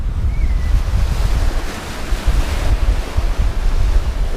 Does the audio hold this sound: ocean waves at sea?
yes